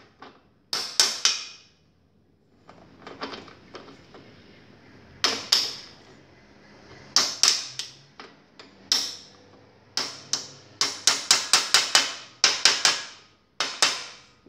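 Hammering a bottom bracket bearing cup into a bicycle frame, sharp close metallic taps in irregular bursts and quick clusters, with short quiet gaps between.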